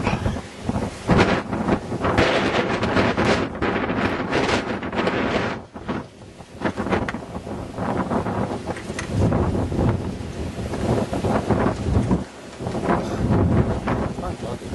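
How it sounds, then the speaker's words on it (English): Strong, steady wind roars into the microphone during a deep-snow blizzard in Frederick, Maryland, a loud continuous rumble with brief lulls, while someone talks and breathes heavily over it. "The wind is blowing hard."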